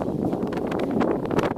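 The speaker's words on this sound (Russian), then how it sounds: "Не знаю, как будет слышно, тут ветер поднялся." Wind buffeting a microphone outdoors at a dig site of wet sand, a continuous low rumbling roar with gusty rustling fluctuations for a brief moment.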